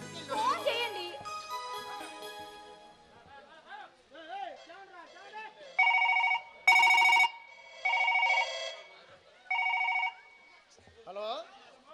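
A telephone rings in several loud bursts in the second half of a home drama scene, each ring a bright electronic trill, with people speaking before and between the rings.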